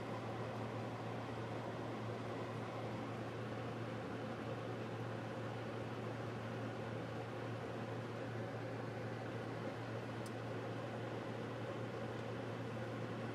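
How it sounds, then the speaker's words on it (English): A space heater at its lowest temperature setting hums in a steady, even drone, and one faint, sharp click sounds near the end as the heating element shuts off. "the heating element just shut off. I feel it get cooler and I heard a click."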